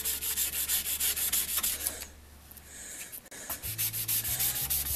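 An old Shapleigh Diamond Edge backsaw has its shellac rubbed off with alcohol-lubricated sandpaper in rapid, close back-and-forth scratchy strokes, a short pause midway, then more strokes.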